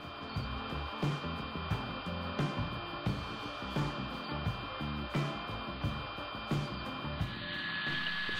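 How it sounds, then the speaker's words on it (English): A disc sander whirs steadily while rounding over the corners of wooden Adirondack chair seat slats, a constant motor drone with regular bumps as each piece presses against the disc, close and alone. "Just using the disc sander here and just rounding over some corners, just smooth them off"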